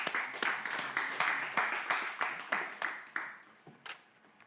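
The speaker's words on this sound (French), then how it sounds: "On applaudit." Audience clapping at a slam poetry event, heard as a series of rhythmic, fairly close claps that gradually thin out and fade.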